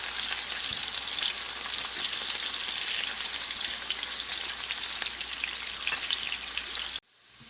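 Chopped onions sizzle in a hot pan for lentil daal, a dense, steady crackling hiss that runs loud and unbroken before cutting off abruptly near the end.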